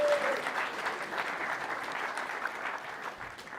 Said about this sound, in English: Everybody, clap him so he gets up here really fast.